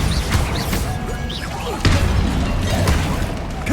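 A Bombarda blast spell bursting in the Hogwarts Legacy game, a sharp booming crash near the two-second mark within a steady bed of other spell effects and game noise.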